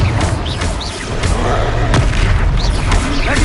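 A Confringo blast spell bursting during combat in Hogwarts Legacy: a loud, booming impact with crackling debris layered over a busy, noisy battle mix, and a few sharp thuds follow close by.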